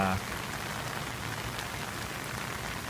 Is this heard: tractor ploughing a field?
no